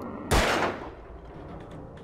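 A single heavy shotgun blast in the video game Alan Wake: a loud, sharp report that rings out and trails off over about half a second into a low background rumble.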